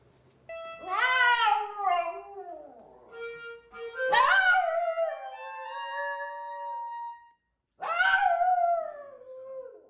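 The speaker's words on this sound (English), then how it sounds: "It's not just barking, it's like he does this sort of howl thing, and he loves doing it." Dog howls in long, wavering, sung phrases that rise and fall, three drawn-out bursts with a short pause before the last, loud and close with no talk over it; the tones sound like a dog singing along rather than barking.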